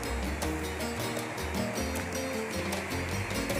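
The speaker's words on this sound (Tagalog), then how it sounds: "Kitang-kita yung buhos ng ulan." Heavy rain pours down in a steady, dense hiss seen from a terrace, continuous and loud with no voices.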